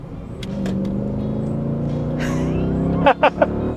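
A 507 hp Mercedes W211 AMG with a seven-speed automatic holds a steady engine drone, then blips through a sharp rev burst of several quick flares as it downshifts into third.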